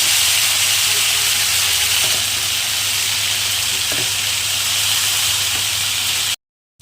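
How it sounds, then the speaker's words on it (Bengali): Blended spice paste with black cumin seeds fries in hot oil, giving a loud, steady, close sizzling hiss. It cuts off abruptly just before the end. "দেখো এটাকে কিন্তু সুন্দর করে ফ্রাই করা হয়ে গেছে"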